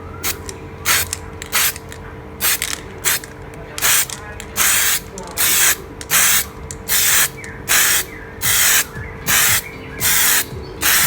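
A spray paint can fires short, even bursts of hissing spray onto a license plate sticker, about a dozen quick passes in a steady rhythm with short pauses between them.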